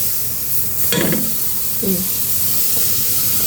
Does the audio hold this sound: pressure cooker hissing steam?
yes